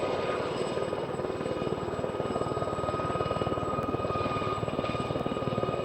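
Training helicopters hover at the RAF Waddington airshow in a 10 to 15 knot wind, giving a steady, close rotor chop with a fast even pulse and a droning engine underneath, alone and unbroken throughout.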